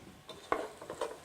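Soft crackling sizzle of onions and peppers frying in a pan, with scraping stirring sounds and light clinks, close and fairly quiet.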